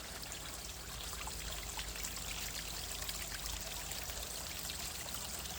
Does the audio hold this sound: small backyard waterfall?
yes